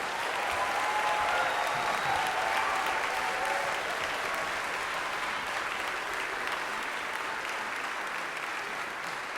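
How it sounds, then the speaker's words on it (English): Audience applause for the musicians on stage at a symphony concert, a broad steady wash of many hands clapping at moderate distance, sustained and even throughout with no voices. "Please give a warm round of applause"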